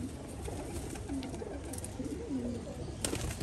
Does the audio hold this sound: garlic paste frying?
no